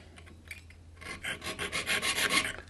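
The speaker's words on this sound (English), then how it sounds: "force my workpiece into the blade, just like you would with a bandsaw, for example, until I have a nice start" A hand saw bites into a wooden workpiece with a string of quick, rasping strokes that speed up and grow louder near the end, close and clear with no talking.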